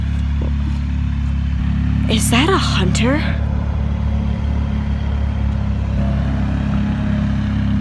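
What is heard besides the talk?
tractor engine in the back field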